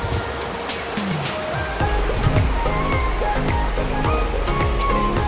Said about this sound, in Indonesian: Bisa didengar itu suara gemercik airnya luar biasa banget.